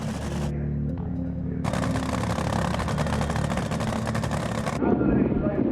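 A nitro dragster engine roars loudly and steadily through a run on drag racing finals day, with a broad, dense blast that cuts off sharply near the end, then a rougher rumble follows.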